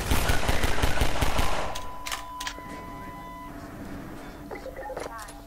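Enemy gunfire in Half-Life 2 rattles in a dense, loud burst of rapid shots for under two seconds, then gives way to quieter game effects and beeps while a person talks.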